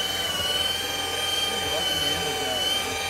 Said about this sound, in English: you can edge buff with this product